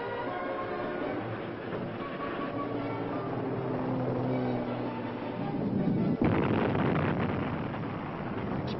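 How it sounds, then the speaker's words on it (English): A steady, heavy rumbling roar in a canyon at Hoover Dam construction, then a sudden sharp rock-blasting explosion about two-thirds through that leaves a louder, churning rumble behind it. "Explosions rocked the canyon almost daily for 2 years"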